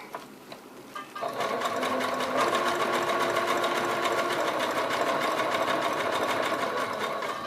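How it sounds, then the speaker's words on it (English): A sewing machine runs a steady zigzag stitch through tissue paper while making gloves, its fast needle chatter starting after a second and holding close and even to the end. "So I'm just doing my zigzag stitch to get the fingers on here."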